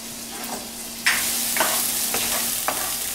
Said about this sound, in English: I'm going to put in one medium shallot chopped, which is going to give this quinoa an oniony and garlicky flavor